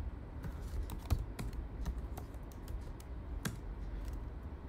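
Typing on a computer keyboard at close range, with a quick, irregular run of crisp key clicks and taps over a low background hum.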